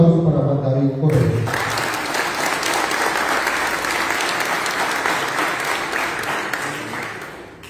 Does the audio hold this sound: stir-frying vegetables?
no